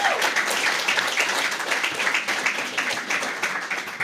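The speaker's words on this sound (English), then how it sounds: "I really want you to give yourselves a round of applause" Applause from an honour roll recognition ceremony audience, steady and dense clapping sustained throughout at moderate loudness, with a few faint voices mixed in.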